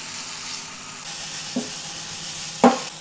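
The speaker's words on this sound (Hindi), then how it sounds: "सो इसको जस्ट सॉटे करना है फॉर अ मिनट।" Bell peppers sauté in a pan for a paneer roll, a soft, even sizzle running throughout with two brief knocks of a utensil near the end.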